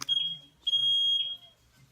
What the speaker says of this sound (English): It's an actual fire alarm.